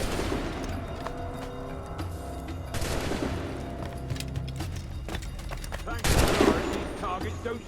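Rifle shots ring out at targets on a shooting range in the pirate-era game Assassin's Creed Black Flag, a few sharp cracks standing out over steady game ambience, with one louder burst near the end.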